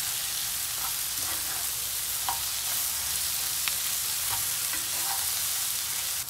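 Steady close sizzling and crackling of tomato paste frying in a hot pan, with occasional scraping stirs.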